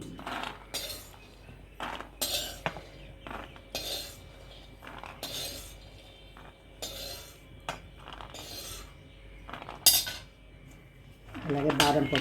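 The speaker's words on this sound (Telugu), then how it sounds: "చూడండి, వేసిన పప్పుని ఇలా డ్రై రోస్ట్ చేసుకోండి." Nuts such as almonds being dry roasted in a pan for a dry fruit snack, with repeated metallic clinks and scraping of a utensil against the pan at a steady rhythm, close and moderately loud, with no talk.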